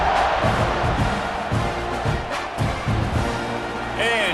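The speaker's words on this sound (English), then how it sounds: "You think this crowd's going to get loud when their defense comes on the field?" Stadium crowd noise from the College Football 26 video game, a dense continuous roar with swelling surges of cheering throughout, while an announcer's voice speaks over it.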